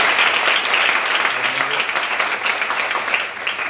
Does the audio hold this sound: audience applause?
yes